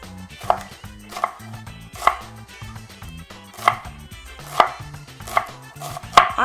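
Knife chopping onions on a cutting board, with about ten sharp, evenly spaced chops against quieter rustling, close and clear, no voices.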